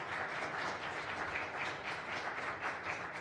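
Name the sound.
audience applauding at a meeting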